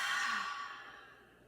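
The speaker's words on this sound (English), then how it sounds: "with a deep inhale and an open mouth exhale" One deep open-mouth exhale during a yoga practice, a breathy sigh that is loud at first and fades smoothly over about a second and a half.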